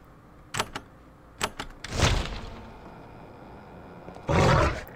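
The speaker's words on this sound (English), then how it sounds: "With a roar that seems to shake the entire cavern, the alien slime shakes and collapses." An alien slime's death roar in Avernum III, a deep, rumbling roar that swells and fades after a few sharp thuds, then returns as a second loud roar near the end.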